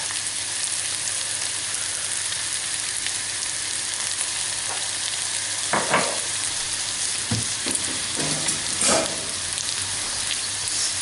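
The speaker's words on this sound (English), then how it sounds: "giving it a bit of a stir, and I'm going to cook these until the onions are slightly softened" Onions, garlic and ginger sizzle in a pan for a chicken curry, a steady loud hiss with a few scrapes and knocks as a spoon stirs them.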